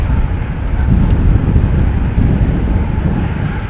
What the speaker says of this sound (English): there is an A220 from Swiss taxiing towards the threshold